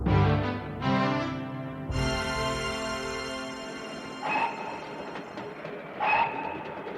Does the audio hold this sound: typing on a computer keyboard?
no